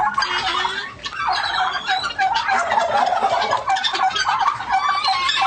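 Turkeys on a Bengal turkey farm gobble almost nonstop, many birds overlapping in a loud, dense chorus of rapid rattling calls that carries on without pause.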